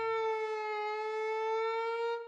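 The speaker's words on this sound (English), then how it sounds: "now you kind of get like this siren sound." A synthesizer tone played on a Roli Seaboard app with a siren-like pitch bend, a bright, sustained harmonic note that holds steady and close, then cuts off abruptly at the end.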